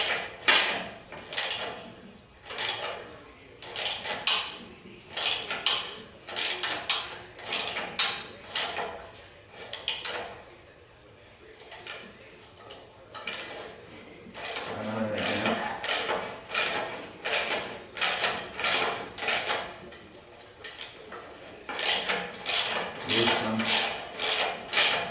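A ratchet wrench loosens header bolts, with bursts of rapid clicking repeating in quick strokes and short pauses between them, close and fairly loud, with no talk.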